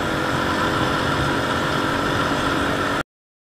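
A motorcycle engine runs loud and steady for about three seconds during a rev-matched downshift, with dense harmonic engine noise throughout before cutting off abruptly.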